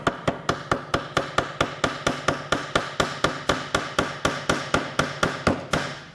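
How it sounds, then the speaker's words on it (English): A ball peen hammer peens a copper rivet over a rove on a boat at a boatbuilding school, striking about twenty-three sharp, evenly spaced metallic blows in a fast steady rhythm, close and loud with no talking. "we take a ball peen hammer, and if things go well,"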